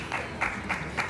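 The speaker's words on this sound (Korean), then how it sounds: "박수" A small group claps in a short, brisk burst of applause, a few hands beating quickly and fairly close, with faint background murmur.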